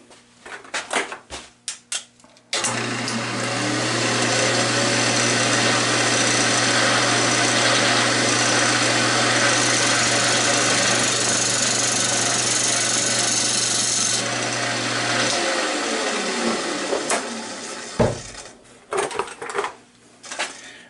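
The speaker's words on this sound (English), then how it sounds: "I'm going to be using the Easy Wood detailing tool, which gives a nice sharp edge." A wood lathe spins a blank held in a chuck while an Easy Wood detailing tool with a sharp edge cuts it, giving a steady, loud scraping whir over a low motor hum that runs unbroken for about twelve seconds before winding down to clatter.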